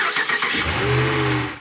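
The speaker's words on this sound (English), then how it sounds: "Now I'm gonna start the truck." Dodge Ram 1500 pickup with an 8-speed transmission cranking briefly, then its engine catching and settling into a steady idle close by.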